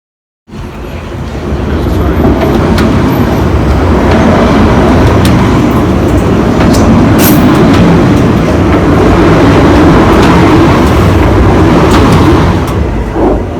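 Train passing on nearby tracks in Portsmouth, a loud continuous roar and rattle of rail cars that rises quickly and holds steady throughout, close by with no talk.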